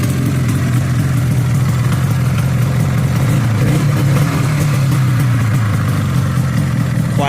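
A 1985 Ski-Doo Type 462 liquid-cooled snowmobile with a 463cc engine runs steadily at close range, a loud, continuous idle with a low rumble that never drops out.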